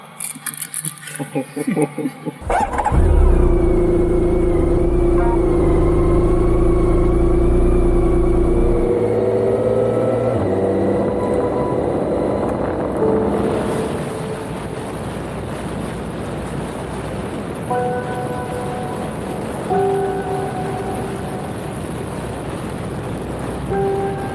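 Strong wind roars against the microphone while riding outdoors, loud and buffeting at first, then easing into a steadier rush with vehicle noise and faint tonal sounds later.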